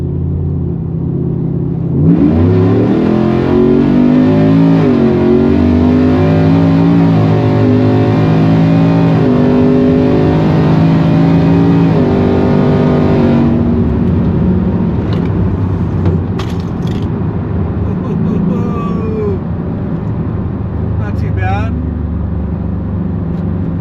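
A 2022 Chevy Camaro ZL1 1LE with KMS Stage 2 upgrades, its engine revving hard and loud up close for several seconds before settling into a deep exhaust rumble, with talk over the idle.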